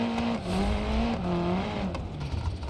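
A small 1.6 liter rally car engine revving in BeamNG.drive, a buzzy drone whose pitch rises and dips with throttle changes, steady and fairly loud, with no talk over it.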